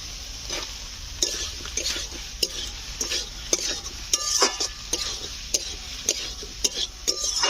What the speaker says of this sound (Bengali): অনেকক্ষণ আলু একটু কষতে হবে